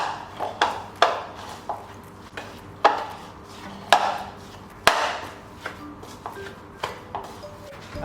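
A spoon or utensil works grated potato and cornstarch in a bowl, producing a steady series of soft knocks and scrapes against the bowl, fairly close and alone.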